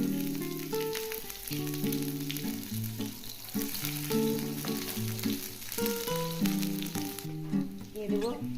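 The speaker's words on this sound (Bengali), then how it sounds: "দিয়ে দিলাম পরিমাণ মতো তেল, দিয়ে দেবো রসুন কুচি আর কাঁচা লঙ্কা কুচি" Chopped garlic and green chili sizzling in hot oil for masala macaroni, a loud, continuous close crackle with background music playing throughout.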